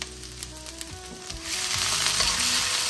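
Ginger and garlic hit a hot pan for chilli chicken, breaking into a loud, steady sizzle after a few clinks and stirring taps, with the frying close and dense throughout.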